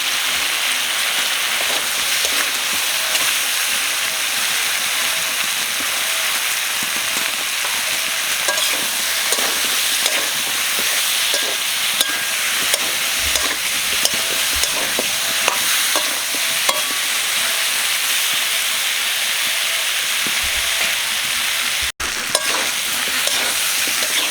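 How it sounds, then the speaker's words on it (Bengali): Steady, loud sizzling of spices, including turmeric powder, frying in hot oil, with occasional light stirring clicks throughout. "মশলা সব আমি ভাজা ভাজা করে নিলাম"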